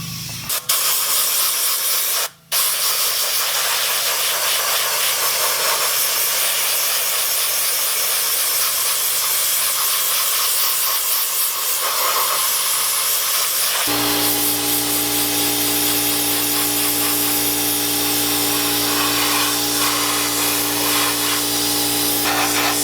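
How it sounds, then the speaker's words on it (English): An air-fed sandblasting gun siphons grit and blasts rust off an antique 1940s metal street sign, a loud continuous hiss with one brief break early, its tone shifting partway through as a compressor hum joins in. "Goes into a gun fed by the air, which siphons out the blasting grit."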